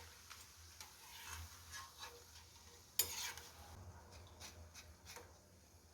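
Pepper karasev dough frying in hot oil, a soft steady sizzle with light crackling and a few sharp clicks, close by and quiet, with no talking.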